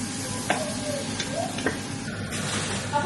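Vegetables and onion cook in a pan with a soft, continuous sizzle. A spoon taps and scrapes the pan now and then while they are stirred. There is no talking.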